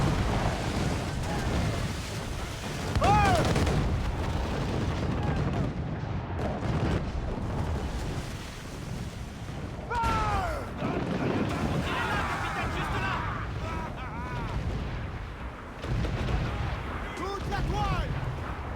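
Cannon fire during a naval battle against forts in a video game, heavy booming blasts and rumbling amid wind and sea noise, mixed with excited shouting voices over the action.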